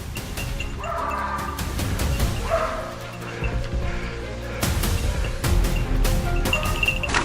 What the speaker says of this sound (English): Release the hunting dogs